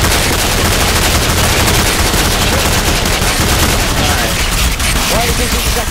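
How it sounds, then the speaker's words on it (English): Dense, sustained gunfire from a zombie-infested base battle in Garry's Mod, loud and unbroken with rapid overlapping shots throughout. "Keep firing!"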